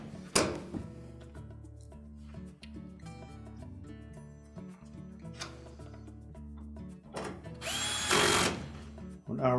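A power drill drives retaining screws into the cold water valve of a Whirlpool washer, a short whir near the start and a longer burst near the end, with soft tool clicks over steady background music.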